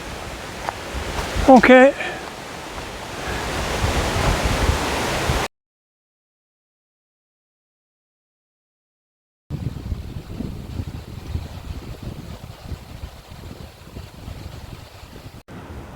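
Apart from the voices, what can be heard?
wind blowing outdoors on a hike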